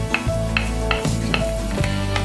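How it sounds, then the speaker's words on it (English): Diced garlic hisses and sizzles in a hot pan as it is stirred, a steady close frying crackle broken by regular scraping strokes of the utensil, with no talking. "next I'm going to add some garlic, some diced up garlics"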